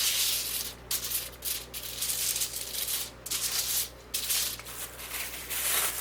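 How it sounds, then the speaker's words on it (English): A paper napkin rubs oil over aluminum foil lining a pan, making soft, close scratchy swishes in repeated strokes with brief pauses between them. "I'll take a napkin so I don't have to get this on my hands, and I'll just rub it all over the pan, or rub the aluminum foil in the pan"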